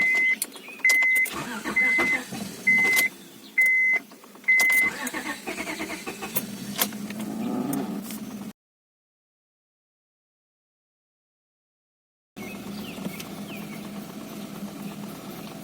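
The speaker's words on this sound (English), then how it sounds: "let's see how the car runs after having cooled down for about an hour" A 2003 Honda Accord V6 with a blown head gasket, cooled down for about an hour, cranks with repeated short starter bursts, then catches and runs at a steady idle, cuts out briefly, then idles again nearby.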